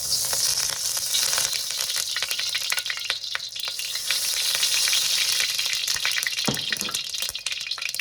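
Oil sizzles steadily in a wok over a very high flame for Chinese fried rice, a loud continuous hiss with occasional crackles and a brief clatter near the end, no voices.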